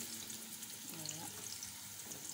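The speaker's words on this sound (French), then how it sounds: "Je vais renverser dans ma marmite les oignons et puis de l'ail." Red onions and garlic sauté in a cooking pot, a faint, steady hiss of frying with a soft murmur of voice in the background.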